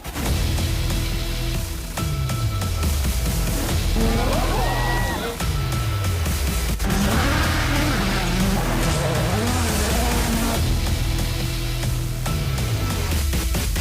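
W Series cars roar away at a race start, engines revving and repeatedly shifting up in rising and falling whines, loud and continuous, with a commentator speaking over them.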